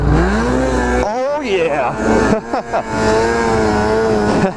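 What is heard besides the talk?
snowmobile riding on snowy trail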